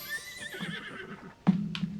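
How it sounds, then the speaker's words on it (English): A game horse in Zelda: Tears of the Kingdom gives a clear, close whinny that trails off, followed by a sharper snort or burst near the end. "Ooh, I got a horse."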